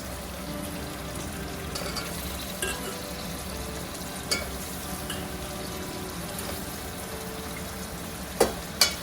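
Jackfruit pieces fry in hot oil with spices in a pan, a steady soft sizzle running throughout with a few brief clinks and stirring knocks of a utensil.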